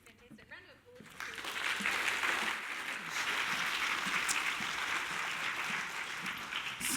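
An audience at a privacy forum gives a round of applause for a speaker, a full, sustained burst of many hands that rises after a brief quieter moment and holds steady under faint voices.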